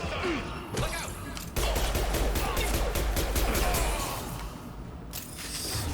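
Rapid gunfire from the Predator pistol in the video game Mass Effect 2, a dense burst of repeated shots with clattering impacts amid combat noise, followed by a few scattered cracks, no talk.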